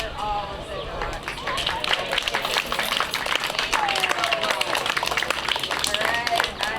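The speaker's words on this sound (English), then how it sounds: "I'd like to have everybody have a round of applause for all of the dogs." An audience at an outdoor senior center dog show claps in sustained applause for the dogs, a dense even patter mixed with cheers and voices.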